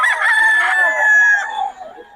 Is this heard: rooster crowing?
yes